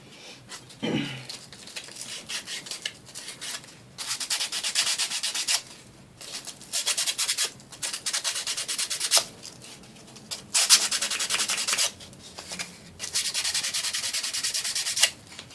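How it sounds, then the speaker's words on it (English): Sandpaper rubbing painted edges of a die-cut wooden craft box, heard as repeated back-and-forth scraping strokes in bursts with short pauses, close and fairly loud, with no talking. "I'm going to have to sand that paint off a little bit on the edges"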